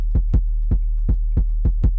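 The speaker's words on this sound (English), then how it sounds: "the way the Jersey Club bass really goes is" A Jersey Club bass pattern in a 4-4-3-3-2 rhythm, heard as loud, punchy low thumps over a sustained sub-bass tone, alone and close.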